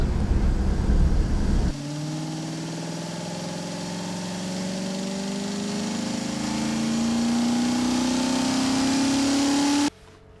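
Infiniti Q60 engine pulling hard through a mountain drive, a rising harmonic drone that climbs steadily in pitch over several seconds after a brief burst of wind-buffeted noise, then cuts off abruptly; no talking.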